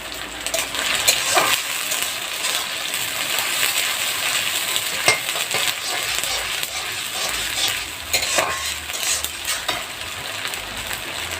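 Masala for duck curry frying in a pan on a clay stove, with water added, gives a loud, continuous sizzle broken by stirring scrapes and occasional sharp clinks throughout.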